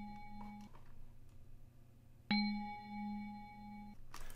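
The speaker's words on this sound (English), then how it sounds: "vibra handbell, the generic Plugg bell." A generic Plugg vibra handbell synth preset in a dark Plugg beat, playing a few sustained bell tones with a clear ringing attack, quiet and alone.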